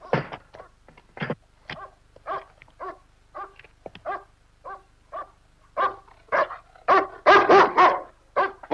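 A dog barks repeatedly in short, loud bursts at close range, the barks growing denser and more insistent toward the end, with no talk over them.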